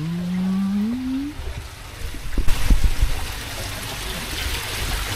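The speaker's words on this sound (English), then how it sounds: "so the shower is running, as you can hear." A shower runs at a garden pond filter setup, a steady rushing spray that grows brighter and louder partway through, after a short rising tone at the start.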